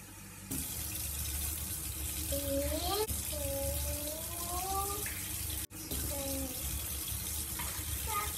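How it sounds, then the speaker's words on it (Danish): Lukewarm kitchen tap water runs in a steady, continuous rush into a sink, with faint rising tonal squeaks over the flow. "så vi sætter lige vandet midt i og lader det rende et øjeblik til den er midt imellem"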